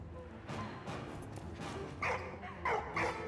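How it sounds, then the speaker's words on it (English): Dog barking in the Valiant Hearts: The Great War video game, several sharp barks and yips clustered near the end over a steady game background. "Shut up, dog."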